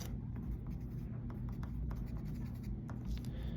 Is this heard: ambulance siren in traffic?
no